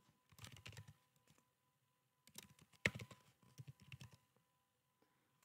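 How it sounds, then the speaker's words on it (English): A username is typed on a computer keyboard, two quiet bursts of rapid key clicks separated by a pause, with one sharper keystroke in the second burst, close and alone. "You're going to type a username."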